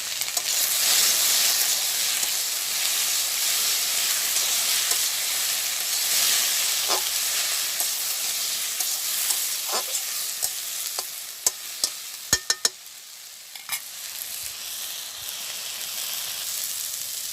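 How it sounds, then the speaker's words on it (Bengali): Okra fries in a pan over a village cooking fire, a continuous bright sizzle and hiss that fades slowly, broken by sharp clicks and taps of a utensil near the end. "এখন ঢেঁড়সটা ভাজি করে নিই"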